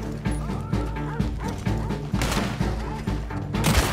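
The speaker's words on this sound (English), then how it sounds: "Shut that dog the fuck up." Repeated dog barks from the video game Red Dead, arriving in short bursts roughly every half second over a dense layer of game music and ambience, with a heavier crash of noise near the end.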